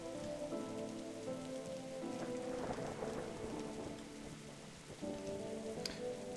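Steady rain patters on surfaces in a detective video game, a constant soft hiss with faint rumbles beneath, heard quietly under a low musical background with no talking.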